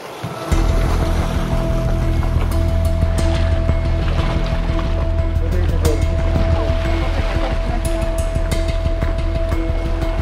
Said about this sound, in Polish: Przychodzimy, a tutaj trochę fale większe. Ponton buja.